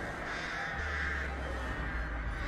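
Crows cawing in the horror video game Dead by Daylight, a steady dense ambient layer of cawing and rustle that holds at an even level throughout with no voices.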